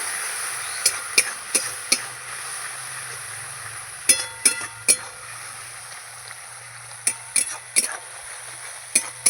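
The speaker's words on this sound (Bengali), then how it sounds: "এবার আমি ভালো করে নেড়ে চেড়ে নেব" A spoon stirs tilapia with salt and turmeric in a pan, giving a steady soft scraping hiss broken by about a dozen sharp clinks of utensil against the pan, close and fairly loud, with no talk.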